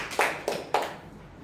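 Three separate sharp claps, fairly quiet and roomy, as a small Toastmasters meeting gives a round of applause, with no talking.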